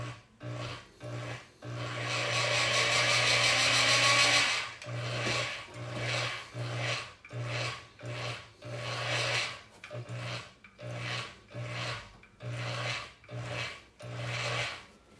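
A bead roller presses a V8 logo into sheet metal, giving close, rhythmic rasping strokes, one long pass and then many short bursts, over a steady low motor hum with no talk.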